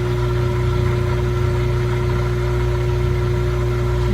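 A Frigidaire laundry center washer motor runs in a steady, loud continuous hum with a strong tonal drone, held unchanged throughout.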